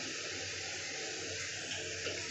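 Water pours steadily into a small bowl of ground coriander, Kashmiri chilli and cumin powder for arhar dal, a soft continuous trickle close by with no pauses.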